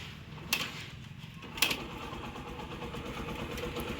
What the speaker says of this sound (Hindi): अब किक लगाते हैं।